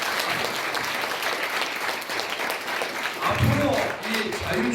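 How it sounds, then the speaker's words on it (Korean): A crowd claps in sustained, dense applause at a retirement speech for the Korea Freedom Federation president, and a voice begins speaking over it near the end. "박수 한번 세게 쳐주시니까"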